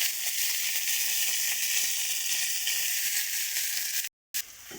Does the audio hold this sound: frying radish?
yes